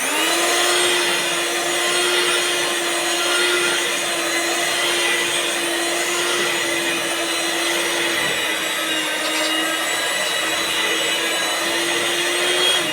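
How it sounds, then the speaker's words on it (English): Steady, loud whirring of an electric mixer or whisk blending sieved flour and baking powder for muffin batter, a continuous motor hum running unbroken with no talk. "Now you mix all of it together."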